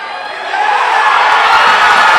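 Stadium crowd at a rugby league grand final roars as a try is scored, a dense broadband swell that rises after the first half-second and holds loud and steady.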